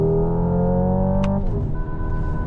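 Simulated engine sound from a Hyundai Ioniq 5 N electric car as the driver downshifts with the paddles: a loud, steady synthetic engine drone whose pitch drops partway through, with a brief click at the shift.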